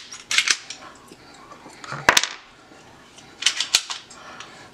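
A loaded Smith & Wesson Shield pistol being cleared, giving sharp metallic clacks and a quick slide rack in three close bursts, with a crisp snap midway, in a quiet room.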